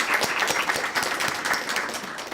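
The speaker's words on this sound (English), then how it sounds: "So let's give her a great round of applause." Brisk audience applause at a meeting, a dense wash of clapping with individual sharp claps standing out, steady throughout.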